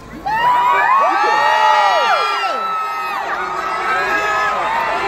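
A large crowd cheers, whoops and shouts in welcome for Hollywood stars including Robert Downey Jr., a loud, sustained roar with high-pitched screams that swell and stay dense throughout.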